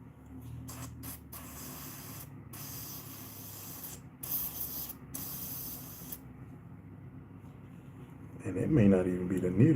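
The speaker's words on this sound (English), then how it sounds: "I am airbrushing" Airbrush spraying paint onto bluegill swimbait lures, bursts of airy hissing that start and stop repeatedly, loud and close, with a voice talking near the end.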